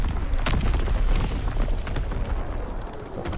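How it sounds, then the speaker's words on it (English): Heavy artillery shells blast in a World War II video game, a dense, loud rumbling boom with a sharp burst near the start and continuous low-end roar throughout, no voices. "Incoming enemy artillery."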